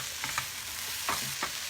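Onions and whole rosemary frying in a pan, a steady low sizzle with a few brief stirring scrapes, close and fairly quiet with no voices.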